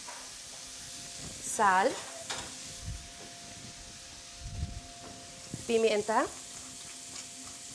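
Green tomato sautéing in a hot pan while cooking pork ribs, a steady low sizzle running under the whole stretch, with speech breaking in twice over the frying.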